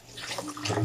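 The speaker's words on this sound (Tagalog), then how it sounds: "Kaya hugasan natin ng maayos." Kangkong (water spinach) being washed under running water for pork sinigang, a steady close splashing and trickling that swells slightly louder toward the end, with no talking.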